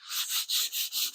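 Primer being scuff sanded by hand, five quick rubbing strokes of bright, hissy scraping in a steady rhythm, close up and faint with no talking.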